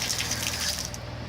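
Water gushes steadily from an outdoor tap fed by a half-inch supply line through an instant on-demand hot water heater, a continuous close hiss that runs unbroken for the whole moment.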